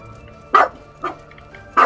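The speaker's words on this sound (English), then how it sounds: "Worst stream dog ever?" Three short, sharp barks from a dog in the game Baldur's Gate 3, evenly spaced and fairly close, standing out over a quiet background hum.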